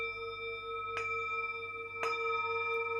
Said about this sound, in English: I'm being called to ding my bell